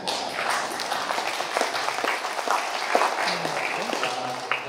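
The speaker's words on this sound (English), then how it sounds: "Let's give them an applause." A small audience claps for several seconds, a steady patter of many hands in a hall that stays even throughout, with a voice faintly heard under it.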